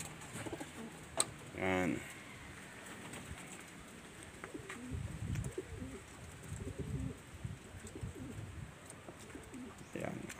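Breeding pigeons coo in a loft, soft low warbling calls scattered through the clip, with a brief louder bird call early on and a person speaking now and then nearby.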